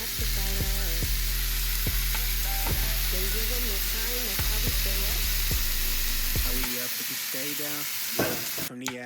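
Oxtails sear in an oil-less pan, giving a steady, loud sizzle with scattered sharp crackles and pops from start to nearly the end.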